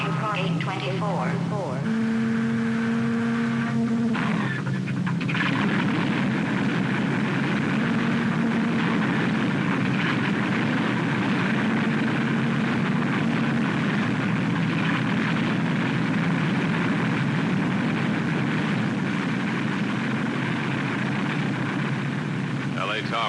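Airliner engines run steadily as United Flight 718 taxis for departure from Chicago, a continuous loud roar and whine that holds throughout, with radio voices briefly heard over it at the start.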